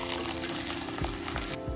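Ragi roti cooking in ghee on a hot pan gives a steady, close sizzle with dense crackling and no talk throughout.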